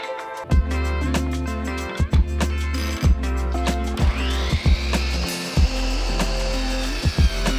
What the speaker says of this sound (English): So I'm going to cut the rest of them like that with my miter saw.